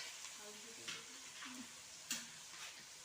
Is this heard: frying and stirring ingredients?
yes